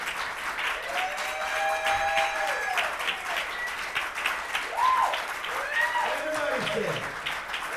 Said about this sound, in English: Keep on clapping as you come back.